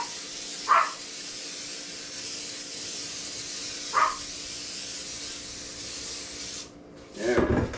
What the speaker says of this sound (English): spray some Pam in the bottom of my pan here before I put anything in it